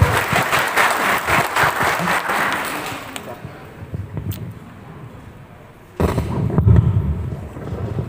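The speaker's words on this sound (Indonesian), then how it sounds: "Beri aplaus dong." A seated audience at a business presentation breaks into loud, dense applause that fades out, then swells again briefly near the end, with voices mixed in.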